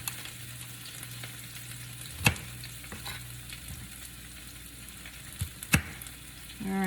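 Broccoli, tomato and onion sautéing in a frying pan, with a low steady sizzle and a couple of sharp utensil clacks as the vegetables are briefly stirred; no voices.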